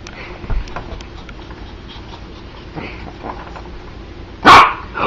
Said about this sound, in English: Oh, look, there's a little bark.